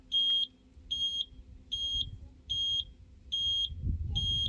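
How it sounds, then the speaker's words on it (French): Small buzzers meant for the turn signals of a bus being converted into a camper beep six times in an even, indicator-like rhythm, loud and close, over low background rumble. "je t'ai commandé des petits buzzers pour les clignotants"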